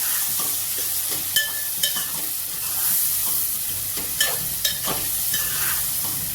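Tomatoes going into a hot frying pan for ridge gourd soup: a steady broadband sizzle throughout, punctuated by several sharp clinks and scrapes of stirring, close and moderately loud, with no talking.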